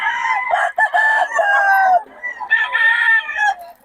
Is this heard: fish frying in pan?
no